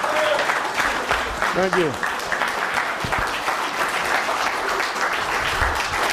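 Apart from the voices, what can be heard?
audience applause for a speaker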